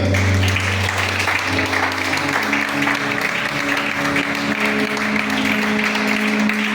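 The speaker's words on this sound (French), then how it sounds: "Est-ce qu'on peut acclamer le Seigneur?" A church congregation breaks into sustained applause during a Sunday service, dense, loud clapping that fills the whole stretch, with a low hum and a few faint voices underneath.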